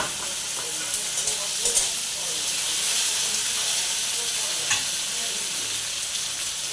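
Soybeans for an egg curry frying in a hot pan, a loud continuous sizzle and hiss with faint clinks.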